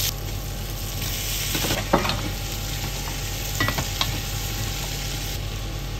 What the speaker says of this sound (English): add the pork belly to sauté